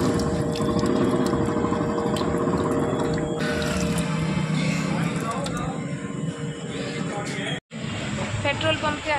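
Water runs steadily from a tap at a petrol station on a hot day, a continuous splashing stream under busy outdoor background noise, with a brief cut near the end.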